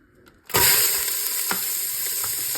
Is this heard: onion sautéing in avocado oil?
yes